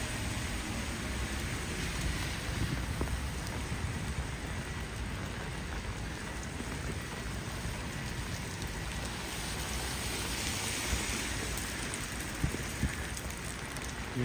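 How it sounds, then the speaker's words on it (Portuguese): Steady, dense rain falls continuously on a city street in Balneário Camboriú, Santa Catarina, Brazil, a broad even hiss with no voices over it. "Mais um dia de chuva."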